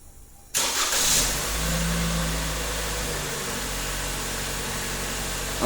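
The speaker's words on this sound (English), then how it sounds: "We're going to test remote starting by pressing the lock button 3 times on our remote." A 2018–2020 Toyota Camry fires up by remote start, a brief cranking burst giving way to a steady, close engine idle that holds alone with no talk.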